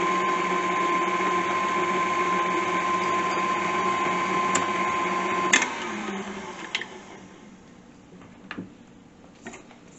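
A stand mixer whirs steadily at close range while mixing pierogi dough, then winds down and stops midway, followed by a few scattered clicks and knocks in quieter room sound.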